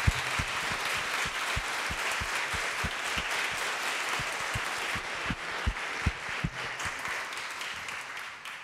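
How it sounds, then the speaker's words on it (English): A large audience applauds presenters at a university three-minute thesis competition, a dense, steady wash of clapping held at even loudness throughout, with no talk over it. "Please join me in another round of applause for our impressive presenters."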